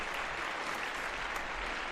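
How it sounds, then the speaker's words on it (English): An audience applauds a guest at a live podcast event, a steady, fairly quiet wash of clapping with no voices over it. "Let's give him a big round of applause"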